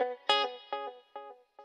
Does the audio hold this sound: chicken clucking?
no